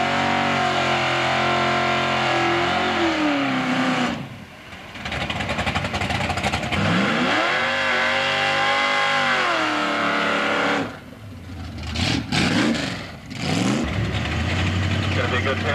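Drag racing cars, including a Camaro, rev hard and roar at the starting line, loud sustained engine noise with pitch sweeps and brief drops, while a commentator talks over it.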